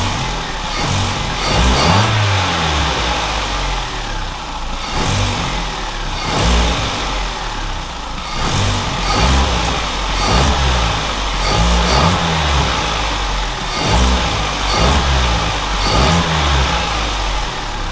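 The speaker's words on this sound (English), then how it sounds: "let's give it a few revs and hopefully this air filter has made a difference" Vauxhall Corsa C track car engine, warmed up and fitted with a new air filter, revved repeatedly: loud, close engine with rising and falling revs over a steady idle, no talking.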